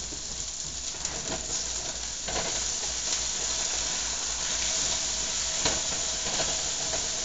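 Cheeseburger patties sizzle steadily in a pan just after being flipped, a continuous broadband hiss with occasional faint pops and no one talking.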